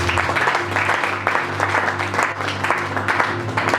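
A church congregation claps and cheers in acclaim of Jesus, a full, continuous round of applause with a steady low tone sustained underneath and small surges in intensity.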